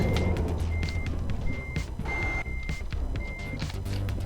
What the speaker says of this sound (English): Let's just go ahead and back this out for a bit.